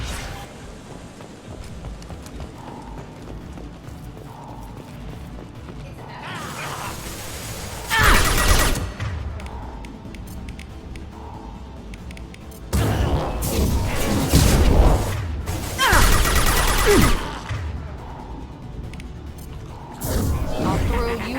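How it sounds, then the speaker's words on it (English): Heavy gunfire and crashing impacts from a Mass Effect 2 combat mission, with loud bursts arriving in clusters over a steady background. Voices speak at points during the firing. "Taking heavy fire!"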